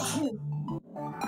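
A single sharp sneeze at the start, close and brief, followed by a voice speaking in a voice-acted scene.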